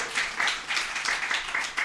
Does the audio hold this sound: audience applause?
yes